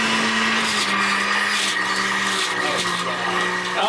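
A Jack LaLanne's Fusion Juicer runs steadily while juicing a white onion, a loud continuous motor whine with shifting grinding texture and no speech.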